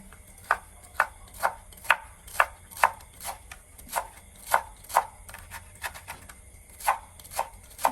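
Ingredients are sliced into strips with a knife on a board for a Lao koi salad of mak lin mai. Crisp, even chopping strokes land about twice a second, close and clear, with no talking.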